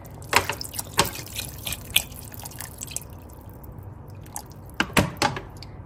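Water pours and splashes into a cooking pot of mutton nihari, with intermittent close splashes and drips that pause mid-way and then return in a couple of sharper bursts.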